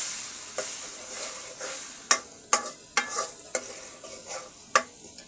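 Bay leaves and spices frying in a pan while cooking pulao, with a soft sizzle under sharp, irregular scrapes and knocks from a spoon stirring, about eight distinct strokes, close and without talking.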